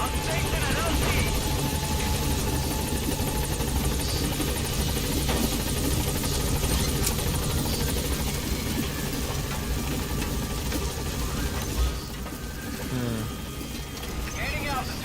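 Helicopter rotor and engine drone from Metal Gear Solid V: The Phantom Pain as the B-Quad chopper arrives at a landing zone, a steady loud whir running throughout under game voices and radio chatter.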